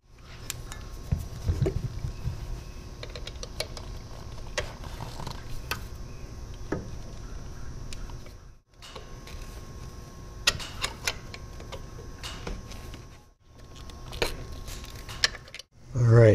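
A wrench works loose the nuts on an aircraft vacuum pump base, producing quick ratcheting clicks in long close runs broken by short pauses, with a faint hum behind.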